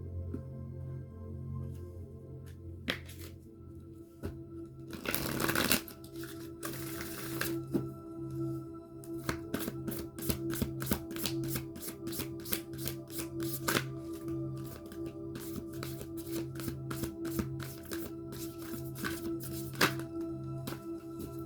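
Tarot or oracle cards are shuffled by hand in a long run of quick, crisp riffling snaps with a louder burst near the start, close and clear over a low steady hum.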